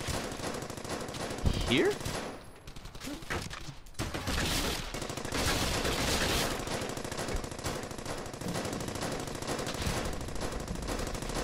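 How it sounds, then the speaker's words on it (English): Machine-gun and rifle fire in the WWII shooter Brothers in Arms: Hell's Highway, bursts crackling through a dense battle mix while a player talks briefly over it. "Please stop shooting me."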